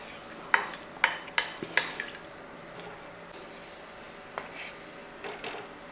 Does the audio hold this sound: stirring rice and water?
yes